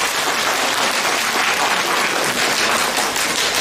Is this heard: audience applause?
yes